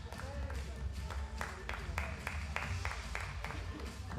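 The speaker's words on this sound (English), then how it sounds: "so big applause for the coach." Clapping for a shooter's coach at a 10 m pistol final, moderately dense applause running under an announcer's voice, with a few louder claps standing out.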